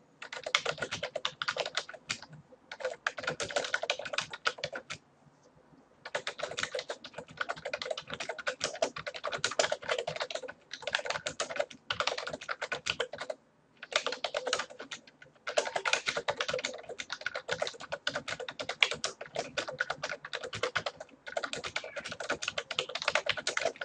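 Steady typing on a computer keyboard, fast bursts of key clicks that run for several seconds at a time and stop in brief pauses, close and clear with no talking.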